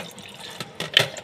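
Supply water runs from a household tap in a kitchen sink after dishwashing, heard as faint, short splashing bursts that swell briefly near the end.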